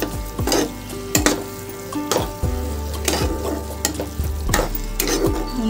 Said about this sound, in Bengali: চিনিটা ভালো করে আমি এর সাথে মিশিয়ে দেবো।